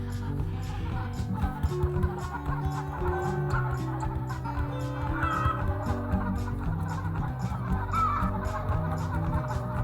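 Chickens clucking in the Egg, Inc. video game, with repeated bursts of clucks layered over a steady musical background throughout.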